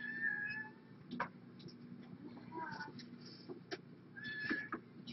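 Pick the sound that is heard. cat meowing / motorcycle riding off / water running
cat meowing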